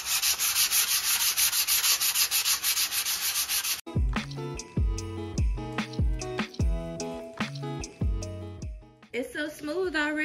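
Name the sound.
sanding DIY Christmas nutcracker soldier with sandpaper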